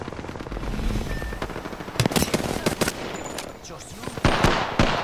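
Bursts of automatic gunfire in the Apex Legends battle royale game, sharp loud volleys clustered around the middle and end, with quieter shots and game ambience between them.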